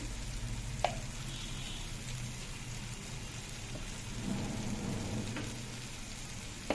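A constant crackling sizzle of stuffed eggplants frying in a masala, with a few faint stirring knocks.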